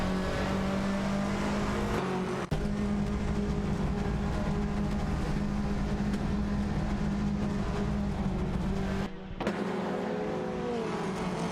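Race cars, including a Lada Vesta and a Ford Focus RS, in an AI racing video game, producing a continuous steady engine drone with a brief dropout, loud and unbroken with no talk.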